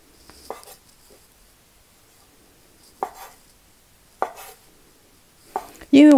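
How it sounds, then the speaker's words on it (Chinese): A knife chops through a log of dough, cutting portions for large pan-fried pork buns; four sharp, separate thuds on a board land a second or more apart, close and fairly loud, with no voices. "这250个面团，我看看切出来我做多少个呢？"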